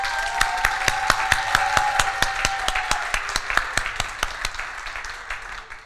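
An audience applauds together in rhythmic unison, as if cheering a national football team, with loud, evenly spaced claps that carry on steadily and gradually loosen and thin toward the end.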